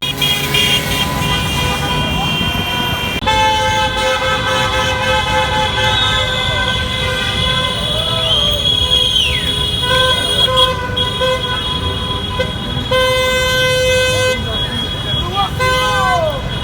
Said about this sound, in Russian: Эти все сигналят.